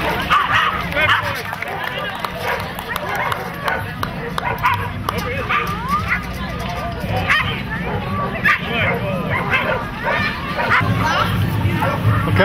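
A Belgian sheepdog barks repeatedly at an outdoor dock dogs demonstration, its yaps rising over a steady hubbub of crowd chatter and nearby talking.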